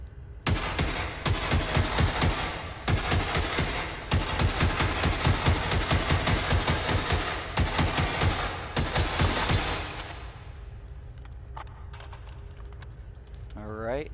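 Rapid automatic gunfire aimed at a robot in the video game Generation Zero, a dense loud rattle of shots lasting about ten seconds before it stops, with faint talk under it.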